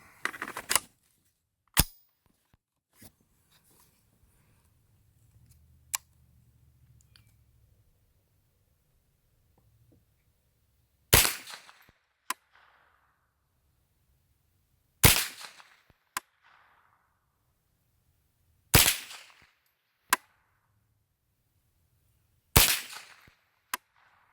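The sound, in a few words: M&P 15-22 rifle firing Winchester .22 rounds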